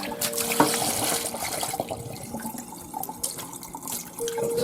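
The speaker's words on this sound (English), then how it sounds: "we're just going to rinse this chicken under that cold water until everything is cold." Cold tap water runs and splashes over raw chicken being rinsed in a kitchen sink, a continuous nearby trickle with irregular drips and spatters throughout.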